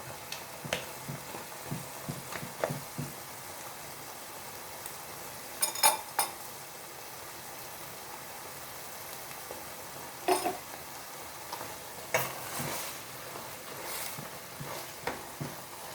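Squid stir-fried with scallions, chili and fried garlic in an open pan, giving a steady sizzle with repeated scraping stirs and clinks of the utensil against the metal, close and alone without voices.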